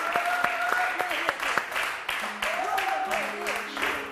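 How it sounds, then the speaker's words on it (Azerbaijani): Audience applause welcoming singer Rahidə Baxışova onto the stage of a live TV show, a steady wash of clapping running throughout, with voices and music tones sounding over it. "Alqışlarla Rahidə xanımı dəvət edirəm."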